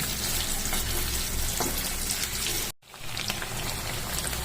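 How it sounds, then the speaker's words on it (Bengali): Paneer frying in a pan until deep red and crisp, a dense, loud sizzle like heavy rain that drops out for a moment and then comes back. "পুরো লাল করে পনিরটা আমাদের ভাজতে হবে"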